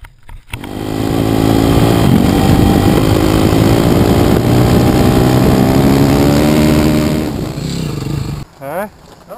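A 450 motorcycle engine revs hard and loud during a ride through Limerick forest, holding high and rising through the gears for most of the clip before cutting off. A brief voice is heard near the end.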